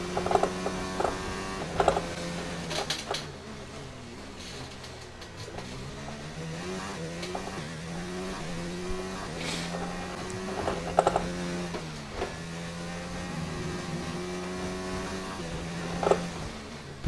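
Formula 1 car engine in F1 2019 during qualifying in China, whining up through the gears in repeated rising sweeps, each gear change breaking the pitch. A few sharp clicks sit on top of the steady drone.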